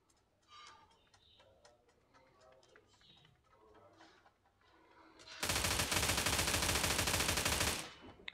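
In the battle royale game New State, a rifle fires a sustained burst of about thirty rounds. The loud, dense automatic fire runs for roughly two seconds after some softer game sounds and clicks.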